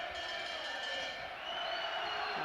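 Boxing crowd at a 1994 Neville Brown versus Andy Flute fight, supporters singing at the tops of their voices, a dense sustained roar of massed voices filling the arena continuously throughout.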